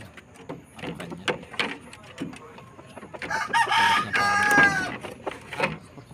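Several chickens cluck and squawk nearby, with one louder drawn-out call rising in the middle, over a light background of scuffling.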